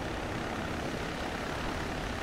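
A helicopter flies in the video game Arma 3, giving a continuous, even engine and rotor drone with a heavy low rumble that stays steady throughout with no talking.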